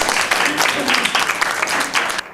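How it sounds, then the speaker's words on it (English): An audience at a school strengths workshop bursts into brisk, loud clapping that carries on for a couple of seconds before trailing off, with some voices mixed in. "Give her a round of applause."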